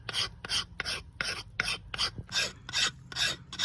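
Brake pad shims being sanded flat by hand on a 1997 Dodge Ram 2500 van with a 5.2 L engine: nine steady, evenly spaced rasping strokes, close and fairly loud, with no talking.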